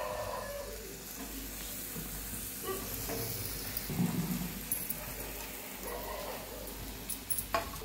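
Mashed potatoes are stirred into a frying turmeric spice masala, giving a continuous soft sizzle with scraping and stirring knocks. The sound is fairly quiet and close, with no voices.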